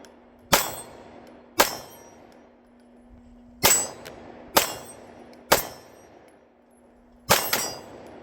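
Pistol shots from a Fusion XP 2011 fired at steel targets, six sharp cracks at uneven intervals with ringing metallic clangs and decaying echoes, a steady hum underneath.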